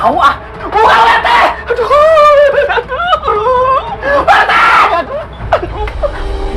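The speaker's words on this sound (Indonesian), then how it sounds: "Ini ada apa sih malam-malam teriak-teriak?" At night, several people scream and shriek loudly and close, overlapping wails and cries with bits of nervous laughter, filling the whole stretch.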